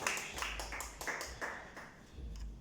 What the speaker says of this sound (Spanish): Vamos a darle un fuerte aplauso a Cristo.